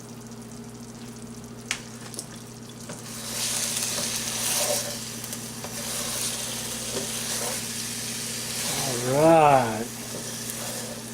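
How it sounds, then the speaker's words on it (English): Barbecue hot dogs sizzle and fry in sauce in an iron skillet, a steady hiss with bursts of stirring and scraping as they are moved around, while someone speaks briefly over the cooking. "I'm moving these around to soak up that barbecue sauce down there in that iron skillet."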